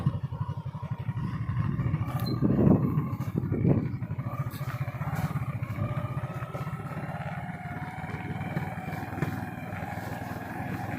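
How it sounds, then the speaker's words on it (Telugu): A motorcycle descends a ghat road in first gear with its engine on and the front brake touched, giving a steady close engine drone with rattling and a few louder surges. "First gear and front break touch చేసుకుంటా, కింద బ్రేకు మనం ఇంజిన్ ఆన్లో వెళ్ళాలి భయ్య."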